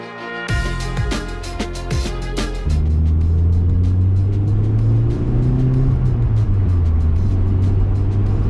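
A Mazda MX-6 engine revs and drives steadily up close on a test drive, with gear changes and a rising, sustained motor drone throughout.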